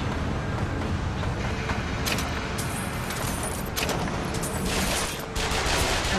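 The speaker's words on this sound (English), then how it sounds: "Yeah, machine gun." Sustained automatic gunfire in the Bioshock Infinite shooter, a dense continuous roar with sharper bursts cutting through around the middle, loud and unbroken throughout.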